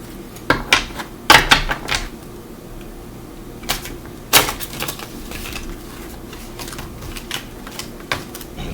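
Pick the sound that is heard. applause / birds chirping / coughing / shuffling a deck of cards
shuffling a deck of cards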